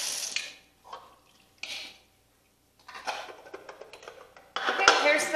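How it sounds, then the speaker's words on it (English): Homemade sugar-water nectar, lukewarm from the fridge, splashes and trickles in short bursts as it is poured into a hummingbird feeder, with light clinks of the container and brief pauses between pours. "So I'm gonna fill up the feeder."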